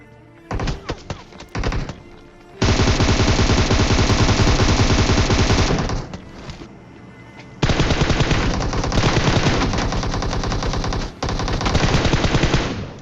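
Gunfire in the battle royale game PUBG Mobile: long, loud sustained automatic bursts with short pauses between them, heavy and close, with a few isolated shots before the first burst.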